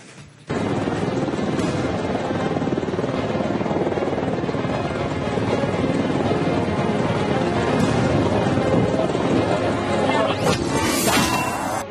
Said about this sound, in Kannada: ಅಮೆರಿಕಾದಿಂದ ಮೂರು ಅಪಾಚೆ ಅಟ್ಯಾಕ್ ಹೆಲಿಕಾಪ್ಟರ್ಸ್ಗಳು ಬಂದಿಳಿದಿದೆ